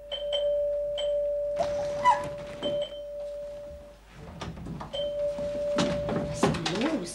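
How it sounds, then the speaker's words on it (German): A 1970s household doorbell rings insistently in long, steady electric tones, broken by brief pauses and a few dull knocks or thuds, then rings again at length. "Was klingelt so Sturm?"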